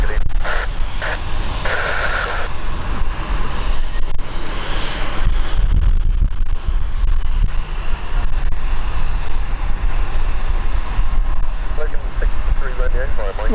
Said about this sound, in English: I'm going to focus on Embraer coming in.